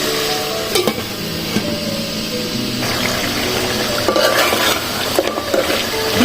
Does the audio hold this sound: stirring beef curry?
yes